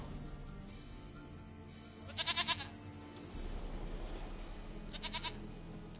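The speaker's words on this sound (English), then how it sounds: "Goat of mine, dearest, sweetest goat." A goat in The Witcher 3: Wild Hunt bleats in two short, loud bursts a few seconds apart, with steady low game ambience running beneath.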